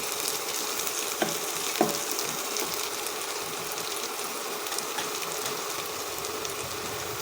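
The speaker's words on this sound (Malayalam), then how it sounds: "ഇനി നമുക്കിതിലേക്ക് മസാലപ്പൊടികൾ കൂടി ചേർത്ത് കൊടുക്കാം" Masala powders fry in the onion base of a Kerala-style fish curry, making a dense, even sizzle throughout with a couple of faint spoon clinks near the start and no talking.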